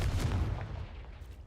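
A fiery Confringo spell blast from a Harry Potter–style magic video game, a loud booming burst at the start that rolls off into a fading rumble.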